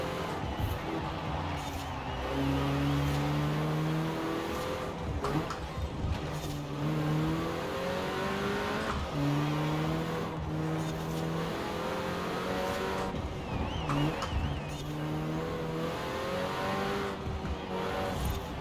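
A 2018 Renault Megane R.S. driven in Forza Horizon 4, its engine rising and falling through repeated gear changes with occasional tire squeal, steady and fairly close, under a faint voice.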